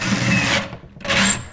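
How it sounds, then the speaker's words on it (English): A power driver sinking a screw through plywood during a kitchen remodel, two close, loud whirring bursts separated by a short pause. "Now we're screwing through plywood here."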